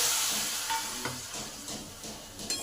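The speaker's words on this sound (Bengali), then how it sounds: "জলটা দিয়ে ভালো করে নেড়ে নিই" Spice paste for a chana dal with potatoes sizzling in a pan just after a splash of water goes in, a moderate hissing sizzle with a few soft stirring scrapes, no voices.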